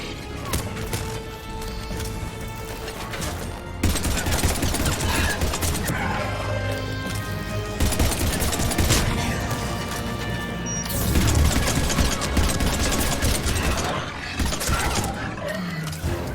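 Gunfire in Mass Effect 3 during a firefight on Earth: dense, loud game combat with repeated shots and crashing impacts across the whole stretch, surging in several bursts, with no talk.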